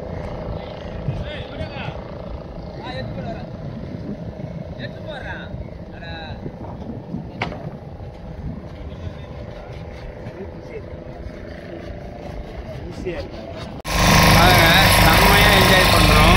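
Motorboat engine droning on the ride out to Blue Island near Pulicat (Palaverkadu), a continuous rumble under chatter, wind and water noise, swelling to a loud roar at the end.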